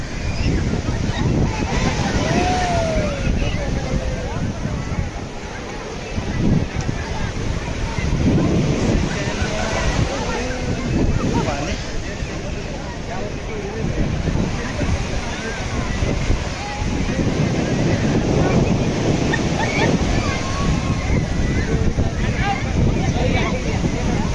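Sea waves roll and crash continuously at a Ganesh immersion in Ernakulam, Kerala, mixed with gusty wind buffeting the microphone and voices talking under the surf.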